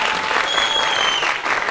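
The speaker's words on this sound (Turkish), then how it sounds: "Ben bir alkış daha alabilir miyim?" Dense, steady applause from an audience at a university pharmacy faculty student event, sustained and even throughout with a faint tonal line above the clapping.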